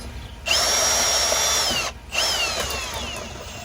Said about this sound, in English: I'm gonna go re-drill it again